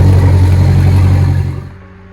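A Volvo Penta Gen V boat engine runs with a loud, steady low rumble, then fades out near the end as it winds down.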